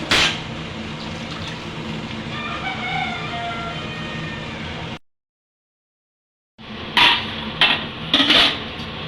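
Water poured steadily into a cooking pot for chicken soup, a continuous splashing flow for several seconds, then silence and a few clanks of metal utensils.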